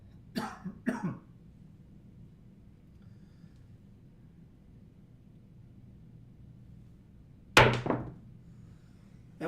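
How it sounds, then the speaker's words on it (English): A person coughs twice close by, then there is a long quiet stretch before one more harsh cough. "Wish I could get rid of this cough."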